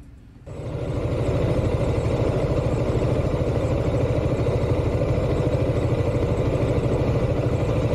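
Yamaha Xmax and Honda Silverwing scooters: an engine catches after a short quiet moment and settles into a steady, close, even running drone with a light mechanical clatter, no voices.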